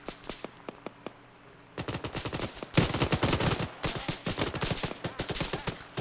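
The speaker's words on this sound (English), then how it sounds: "We're going to open fire now on them and get everybody up." Automatic rifle fire during a firefight in the military shooter Arma 3, beginning with sparse distant single shots and then breaking into loud, dense, sustained bursts from several guns nearby.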